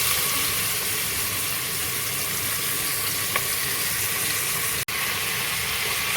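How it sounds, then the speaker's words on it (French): Minced meat frying in a pan for chili con carne, a steady loud sizzle with one brief click partway through and no talk. "nous allons faire cuire notre haché"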